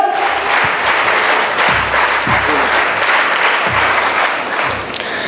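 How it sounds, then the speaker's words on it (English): Warm round of audience applause at a school investiture ceremony for newly appointed young student leaders, a dense steady wash of many hands clapping with a few sharp individual claps standing out, sustained and fairly loud throughout. "let us acknowledge these young leaders with a warm and gracious NCC round of applause"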